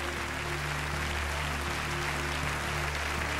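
An indoor sports arena audience at the Miss Italia 2005 final keeps up a broad, even wash of clapping over steady background music.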